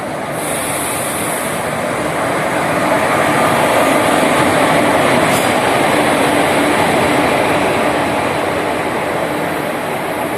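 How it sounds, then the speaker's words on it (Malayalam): A train pulls into a railway station with a loud, continuous rolling rumble and a steady clatter of wheels, and no voices. "അങ്ങനെ ട്രെയിൻ വന്നു."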